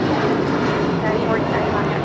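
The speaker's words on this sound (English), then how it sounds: "That is United Airlines" United Airlines Boeing 757-300 jet departing from LAX, a steady loud broadband roar of jet engines filling the short stretch without pause.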